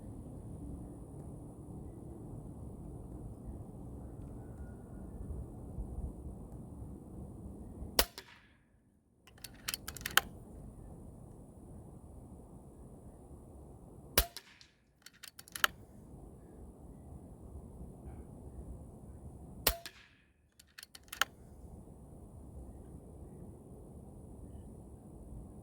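Slug rounds from an Extreme Bone Crusher shotgun fired at targets, rogue and Zan slugs compared: three sharp, loud reports spaced several seconds apart, each with a brief echoing tail, over steady outdoor background noise.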